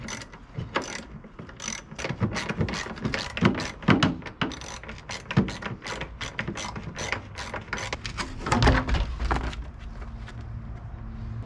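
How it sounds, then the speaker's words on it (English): A hand ratchet clicks in rapid, uneven bursts as it loosens the bolts on the fiberglass running boards of a 1997 Dodge Ram B2500 high-roof conversion van. The clicking is close and continuous, with brief pauses between strokes and no talking. "So right now I'm taking off these fiberglass running boards."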